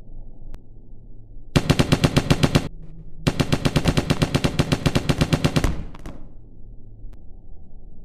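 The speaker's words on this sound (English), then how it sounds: "I heard gunshots." Two long bursts of rapid automatic gunfire rattle loudly, separated by a short pause, then trail off into quiet.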